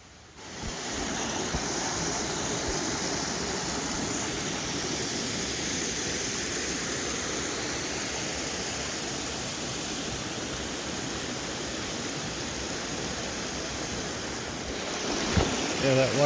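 Chilly water laps steadily at a small rocky beach beside the Akame 48 Waterfalls near Nara, Japan, a continuous close wash with wind noise over the microphone and no speech.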